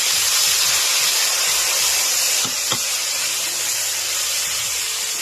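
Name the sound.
ginger, chili and tomato paste sizzling in a pan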